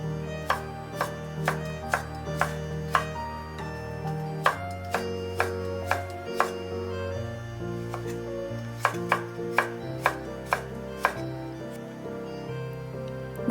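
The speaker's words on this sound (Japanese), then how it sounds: "きゅうりはヘタを落として縦半分に切ってから斜め薄切りにします" A knife thinly slicing halved cucumber on the diagonal against a cutting board, giving a steady run of crisp, evenly spaced taps close by, with a low music bed underneath and no talking.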